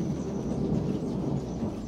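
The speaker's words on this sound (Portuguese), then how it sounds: "Trovejando, gente." Thunder rumbles during rain outdoors, a low continuous rolling roar under the hiss of falling rain, moderately loud with no talk.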